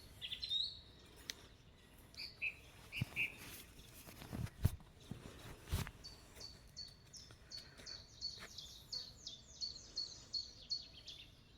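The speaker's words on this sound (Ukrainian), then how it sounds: "Пісні пташок." Songbirds in a June forest at morning sing in short repeated chirps and trills, moderately faint and scattered, with a few louder rustling or stepping noises near the microphone.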